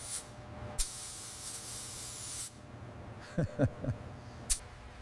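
A spray gun lays a final black top coat on the fender of a 1926 Mack Model AB truck in close hissing bursts, a short one then a longer pass. After a few small squeaks comes one more quick burst.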